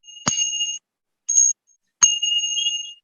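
Wind chimes ring out in three bright, metallic strikes, the first and last leaving sustained shimmering tones and a short middle tap between them, close and clear against silence.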